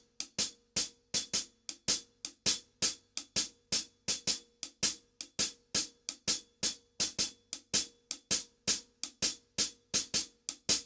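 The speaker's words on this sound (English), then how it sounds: "I'm going to play a cascara rhythm on the right hand" Hi-hat plays an Afro-Cuban cascara rhythm, crisp, evenly driven strokes in a steady syncopated pattern, close and alone throughout.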